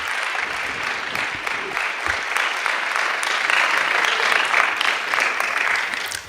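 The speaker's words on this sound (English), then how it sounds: "Give them another round of applause, please." Sustained applause from a chapel audience for the morning's student speakers, a steady dense clatter of many hands filling the room for several seconds with no talking over it.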